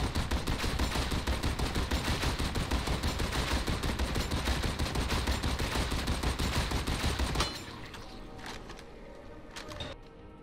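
Sustained rapid automatic stubber fire from Warhammer 40K: Darktide, aimed at a Plague Ogryn, pours out as a loud unbroken rattle for about seven seconds, then cuts off abruptly, leaving quieter scattered clanks and game ambience.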